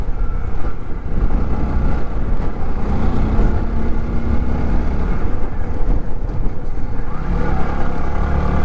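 Loud, constant roar of strong wind buffeting the microphone on a high mountain route near Pangong Lake, Ladakh, a dense low rumble throughout with no voices.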